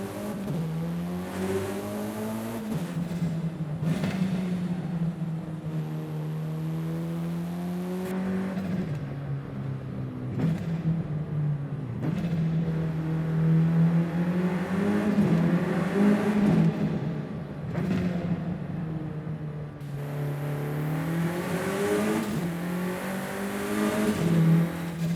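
A car engine revving in the Forza Horizon 5 racing game, a steady loud drone that rises and falls in pitch as the revs climb and drop, with no talking over it.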